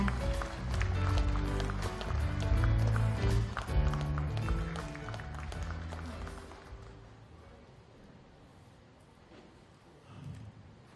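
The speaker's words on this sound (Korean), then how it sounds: "큰 박수로 다시 한번 맞이해 주시기 바랍니다" An audience at a book launch event gives loud, sustained applause to welcome congratulatory speakers, a dense wash of clapping with music underneath, gradually fading over several seconds before a voice begins.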